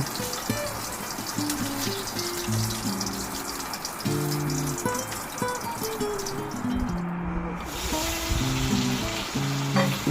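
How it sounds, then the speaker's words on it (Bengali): Chicken pieces deep-frying in hot oil until red and crisp, a steady dense sizzle and bubbling with occasional stirring clinks, close and continuous throughout, with no talking. "বাকিগুলো লাল লাল করে কড়া করে একদম ভেজে নিলাম।"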